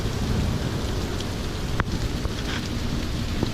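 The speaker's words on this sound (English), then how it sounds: "But it is pouring" Heavy rain pouring down on Fort Lauderdale beach in Florida, a dense, steady hiss of downpour filling the whole scene, loud and continuous with a few faint drips standing out.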